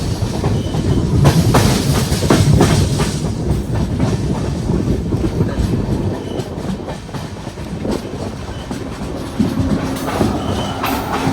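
Ernakulam–Okha Express running on rails, a loud continuous rumble with rhythmic clickety-clack of the wheels over rail joints throughout, no talking.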